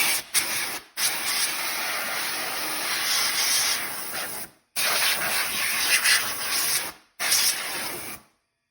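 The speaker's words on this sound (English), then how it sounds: "I'll just hit it with some air just to get that out of it, or dry it off" Compressed air blasts out freshly drilled and rinsed holes during a cab heater install on a CFMoto Inferno. Three close, loud hissing bursts are separated by short silent pauses.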